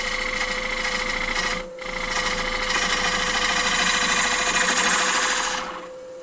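Bowl gouge cutting wood on a spinning lathe: a steady, dense hiss and rasp over a constant motor hum that dips briefly, then continues and fades near the end, close and fairly loud, with no talk.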